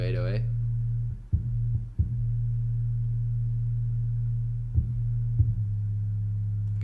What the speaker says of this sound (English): This is the new 808.